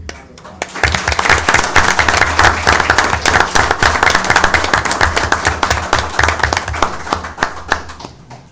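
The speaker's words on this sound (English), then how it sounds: "So let's give Shelley and Sue a round of applause." An audience at a Piedmont Schools board meeting applauds, with loud, crisp clapping bursting in after a brief quiet start and carrying on energetically, thinning slightly toward the end.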